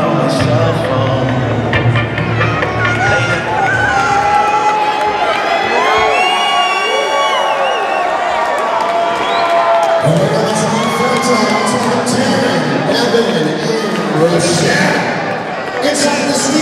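A fine crowd at a Knockout Promotions boxing event cheers and shouts steadily throughout, a dense roar of voices with whoops rising and falling, loud and continuous.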